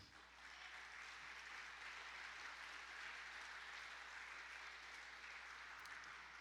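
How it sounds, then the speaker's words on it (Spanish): A church congregation claps for the Lord during a Spanish-language service, a continuous, even round of applause held for several seconds in a reverberant hall, with no speech over it. "¿Le damos un aplauso al Señor?"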